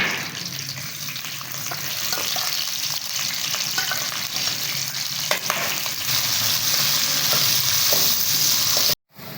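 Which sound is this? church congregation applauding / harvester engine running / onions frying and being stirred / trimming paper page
onions frying and being stirred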